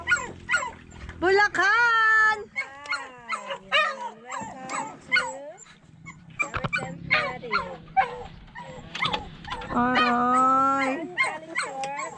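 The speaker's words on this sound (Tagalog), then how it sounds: "may aso pa, oh." A dog at a lodging in Coron, Palawan whimpers, yips and lets out drawn-out howling cries in repeated close bursts, with people speaking around it.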